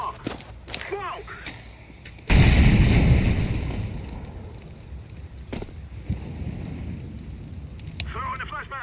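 A smoke grenade in Counter-Strike 2 goes off with a sudden loud burst and a long hissing release that slowly fades. Scattered game clicks and footsteps surround it, and a player talks around it.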